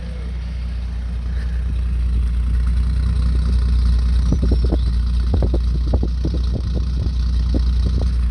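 A Ford Granada 2.8 engine idles with a steady low rumble close by, and light clattering ticks join in during the second half.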